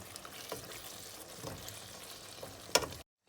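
Fresh cream is stirred into chicken tikka masala in a hot pan, giving a steady low sizzle with a brief scraping stir near the end before the sound cuts off. Nobody speaks.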